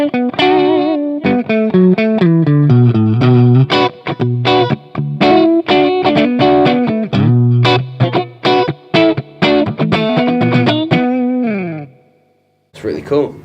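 Hughes and Kettner GrandMeister Deluxe 40 amp playing an electric guitar with reverb switched in, loud chords and picked notes ringing in a steady run, a tail trailing into a brief near-silence before one last strum.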